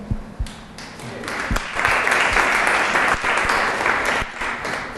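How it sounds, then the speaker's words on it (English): A conference audience applauds, a dense, steady wash of clapping that swells after a second and holds strong to the end, with a few sharper nearby claps standing out. "Applaud yourself, please."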